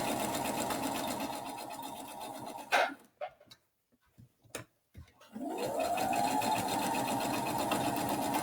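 A sewing machine stitching French seams on a fabric scrubs bag runs in a steady, fast mechanical whir, stops for a few seconds of quiet clicks and handling, then revs back up and keeps sewing.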